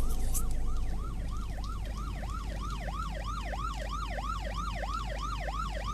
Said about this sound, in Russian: Дальше приезжает скорая и забирает нас, собственно, в больничку.